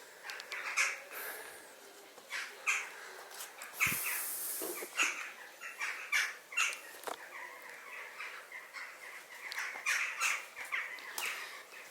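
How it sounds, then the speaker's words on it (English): Harsh calls and squawks of wild birds repeat irregularly throughout, echoing slightly within the ruins of Buchanan Castle in Scotland, with a brief rustling burst partway through and no talking. "any bird noises you hear, it's all here."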